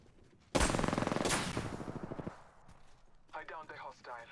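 Rapid automatic gunfire from an Apex Legends firefight bursts in loud and close, a dense rattle of shots lasting nearly two seconds before it trails off. A voice talks briefly afterward.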